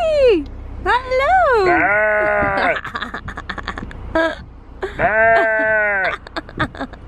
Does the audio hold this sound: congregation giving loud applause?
no